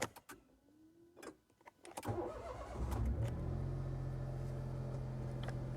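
A Smart Roadster starts after a fuel pump repair, with a few clicks and a short whine as the engine cranks, then it catches into a steady nearby idle that continues to the end.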